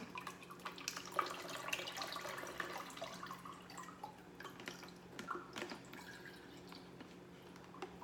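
Watermelon juice drips steadily from a juicer in soft, close, irregular patters and trickles over a faint background hum.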